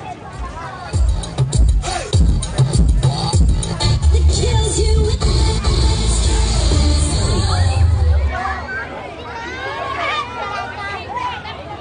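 Audience at an outdoor market in Korat cheers and applauds a dance team, a loud dense crowd roar with claps and shouts throughout, easing slightly toward the end.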